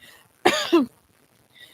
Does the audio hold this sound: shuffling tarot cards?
no